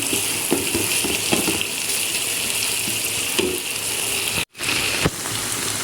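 Noodles stir-fried with sauce in a hot pan make a loud, continuous sizzle, punctuated by irregular scraping and tossing knocks, with a short break near the end before the hiss resumes.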